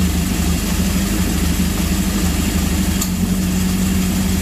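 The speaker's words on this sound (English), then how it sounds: "And that backfire, that's engine timing." A Honda CB750 motorcycle engine runs steadily at close range with a throbbing low idle, a single sharp pop of a backfire cutting through near the end.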